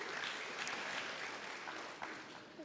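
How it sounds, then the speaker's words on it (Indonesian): A church congregation applauds during a sermon, a dense, steady wash of clapping from a crowd that holds for a couple of seconds and then begins to taper. "Tepuk tangan buat Yesus."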